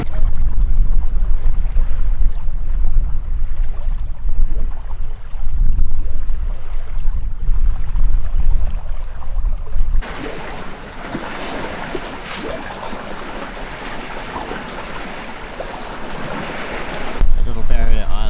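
A sailboat motors out of the North Passage toward open sea off New Zealand's Auckland coast: steady engine drone under rushing water and gusting wind buffeting the microphone, with a brighter burst of splash and wind noise partway through.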